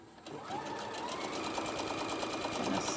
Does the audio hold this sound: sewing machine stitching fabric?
yes